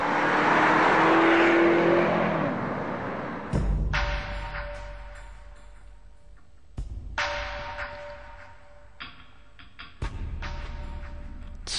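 A Mercedes-Benz CLK C209 DTM widebody car drives past with a loud engine roar that fades, then comes a series of sharp revs and gear changes with pauses between them, heard from outside the car.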